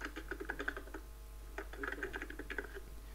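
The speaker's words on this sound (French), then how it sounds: "Nous entendons Liquid qui tape frénétiquement sur son clavier." Rapid, frantic typing on a computer keyboard, dense bursts of clicking keystrokes in two flurries separated by a short pause, close and moderately quiet with no talk.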